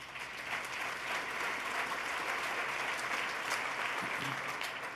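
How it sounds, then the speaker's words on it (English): Audience applause at a State of the State address, a steady dense wash of clapping from a large crowd that holds evenly for the whole stretch with no talk over it. "you should applaud for that."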